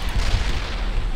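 A loud, close rocket explosion in the video game The Last Stand 2, a single heavy boom with rumbling tail filling the brief moment.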